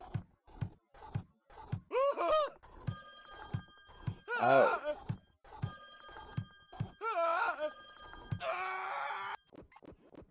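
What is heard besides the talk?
telephone ringing in Friday the 13th: Killer Puzzle video game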